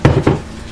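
Two quick scraping knocks of a stirring utensil against a slow cooker pot of cassoulet, close and fairly soft, then a fading tail.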